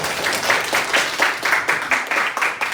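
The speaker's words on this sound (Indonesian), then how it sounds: "Tepuk tangan kepada sekalian." Students in a classroom clap together after a group discussion, a loud, close burst of rhythmic hand claps pulsing in short waves for a few seconds.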